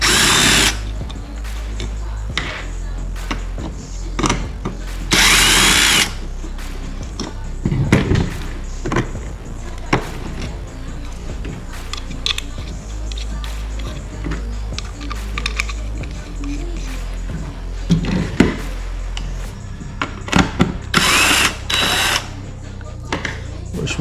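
Power drill bursts loosening rusted bolts on the front bumper of a Lexus SC300/400, several loud whirring runs separated by pauses, with clanks and handling noise close by.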